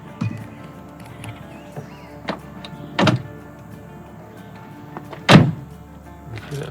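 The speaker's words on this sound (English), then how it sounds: "close the door up." A few heavy thuds of a van door slamming shut, the loudest near the end, over low background rumble and faint handling noises.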